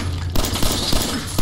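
Rapid bursts of gunfire from a Fallout 4 combat sequence, several sharp shots in quick succession over a steady game background hum, loud and close.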